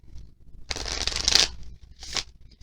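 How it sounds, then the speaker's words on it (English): Tarot cards being shuffled by hand, a dense riffling burst lasting under a second followed by a shorter second riffle, close and crisp with no talking. "I am going to do one shuffle of the emotional cards on top of what I've already done."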